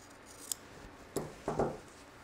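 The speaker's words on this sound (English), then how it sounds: "I'm going to cut along this line" Scissors cut fabric along a pulled thread line, giving a few quiet, close snips: one light click, then two or three crisper cuts in quick succession.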